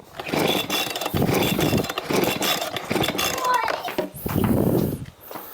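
Someone repeatedly yanks the pull cord of a gas-powered leaf blower while cleaning a WRX, making a series of rough, scraping pulls with no engine catching. People talk throughout.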